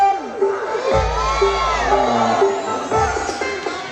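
Spectators at a gobak sodor match cheer and shout, with children's high voices whooping over a loud, continuous crowd roar that rises and falls in bursts.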